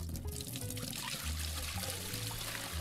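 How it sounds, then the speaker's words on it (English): Water pours steadily from a sink tap into a bucket in the Aquatic Store Simulator video game, a continuous, fairly faint splashing trickle with no pauses. "Click on the sink to fill it."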